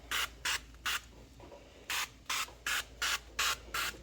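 A can of avocado oil cooking spray hisses in nine short, even bursts close by: three quick sprays, a brief pause, then six more in a steady rhythm.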